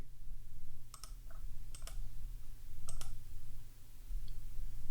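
A computer mouse clicks in quick pairs, three crisp double clicks close up over a steady low hum, with a faint tick near the end and no voices.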